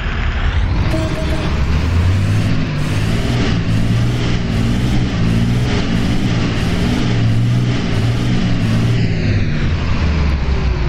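A loud heavy bus engine, a 2011 Mascarello GranVia on a VW 17230 chassis in the game OMSI 2, starts and runs continuously, droning low with a rhythmic chugging, close and without any voices.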